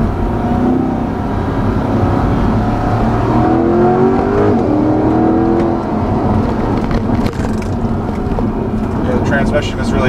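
A 2020 Chevrolet Corvette Stingray 1LT convertible pulls hard in second gear on a bumpy road, its loud engine note rising and shifting quickly, heard from inside the cabin with a driver talking over it.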